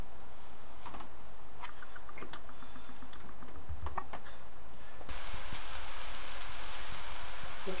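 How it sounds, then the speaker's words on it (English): Steady crackling and sizzling of Canadian bacon frying in a pan, close up, with the hiss growing louder toward the end. "I'm frying up in the pan here with an egg for dinner."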